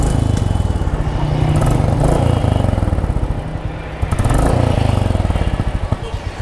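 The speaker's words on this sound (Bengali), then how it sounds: "অনেকে বলে যে বুলেটের আওয়াজ নাকি একটু বেশি ডেপথ, আসলে না।" A Royal Enfield Bullet motorcycle engine runs close by with a loud, rhythmic thumping beat that swells and eases as the throttle changes.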